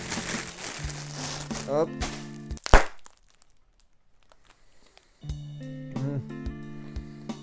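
A plastic freshness sachet is torn open with crinkling, tearing and a sharp crack, close up and mixed with talk, followed by a pause and more rustling.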